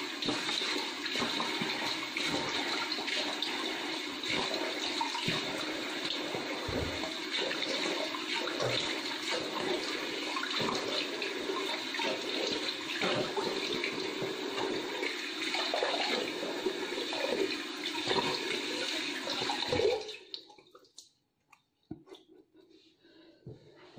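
Tap water running continuously close by in a bathroom sink while a face is rinsed during a skincare routine, a steady splashing rush lasting about twenty seconds before cutting off to faint drips and quiet.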